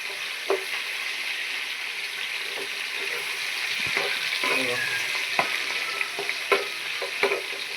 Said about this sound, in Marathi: कांदा बिंदू जरा भाजून घ्यायचं चांगलं